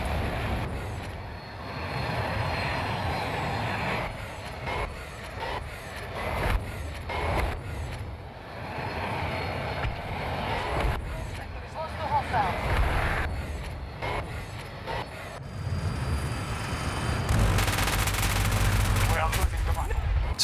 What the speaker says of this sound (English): So I'm flying the Su-57 in flashpoint, and an enemy jet spawned and started shooting at me